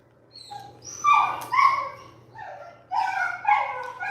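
A dog gives short, whiny barks and yips in two quick pairs with pauses between, close by and fairly loud over a faint low hum.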